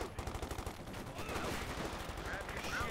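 Machine gun fire from a Company of Heroes 2 battle, with rapid broadband bursts pulsing steadily through the whole stretch amid general battle din and some talk.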